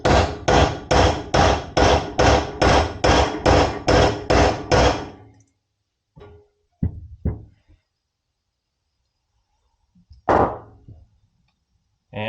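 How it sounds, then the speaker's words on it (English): A hammer strikes a metal drift about a dozen times in a quick, even rhythm, knocking out a bearing race from a Harley-Davidson swingarm, sharp ringing blows, followed by a few scattered knocks after a pause. "it needed a hammer and a drift there to get it out"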